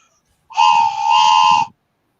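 A single steady whistle blast, loud and close, held for just over a second with a bright tone and a slight pitch dip in the middle, alone without talk.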